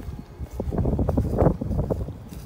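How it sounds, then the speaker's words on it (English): Wind blows outdoors beside an abandoned high school in Gary, Indiana, buffeting the microphone in uneven low rumbling gusts that swell and ease over a couple of seconds. "the wind's blowing"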